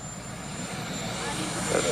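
Aircraft engine noise from the 1991 presidential helicopter arriving at Camp David, a steady broadband roar under continuous talk that grows slightly louder toward the end.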